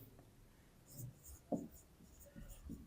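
A pen or marker scratches and taps in short strokes on a classroom board while a teacher works through a math problem, faint and close, with brief speech around the strokes.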